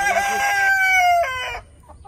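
A rooster in a coop with black Orpington chickens lets out a single close, loud crow lasting over a second, followed by a faint cluck.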